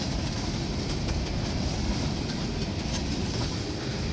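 A long freight train on the D&H rolls past a building in a steady, continuous rumble with faint wheel clatter, close and loud throughout, no voices.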